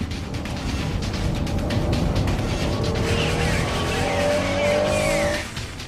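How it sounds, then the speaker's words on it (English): A Honda NSX-R race car corners hard into a slippery hairpin, its engine roaring loudly as tires squeal in long rising screeches before the sound cuts off. "NSXR went for the takeover, entering the slippery second hairpin."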